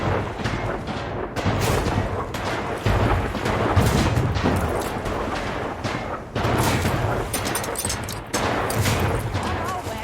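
Naval battleship gunfire in the strategy game Anno 1800, a dense fusillade of booming shots and blasts in rapid irregular bursts that stays loud and continuous throughout.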